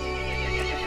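A horse gives a loud, close neigh over a steady background drone, with a hint of hoof clip-clop beneath it in a game scene with monsters.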